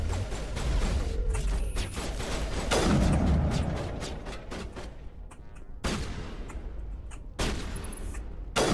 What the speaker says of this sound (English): Shooting a pistol